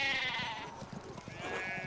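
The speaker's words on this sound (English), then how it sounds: "we need to get these sheep under control" Sheep bleat in the video game Pentiment: drawn-out, wavering calls that overlap close by and fill the full two seconds with no speech.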